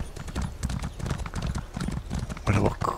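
Horse hooves clip-clop in a quick, steady rhythm from a mount ridden in the Elder Scrolls Online video game, close and continuous while someone talks over it.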